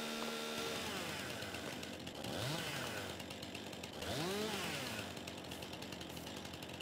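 A chainsaw cuts a tree in the video game Farming Simulator 22, its engine droning steadily and revving up in two rising swells as the blade bites, loud and continuous without talk.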